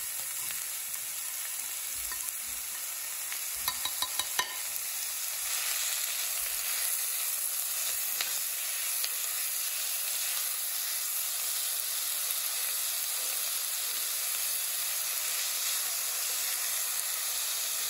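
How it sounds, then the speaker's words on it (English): Strips of bacon frying in a pan give a constant, dense sizzle and crackle close up. The sound holds steady throughout, with a few louder pops and scrapes early on and no talking. "Listen to that sizzle."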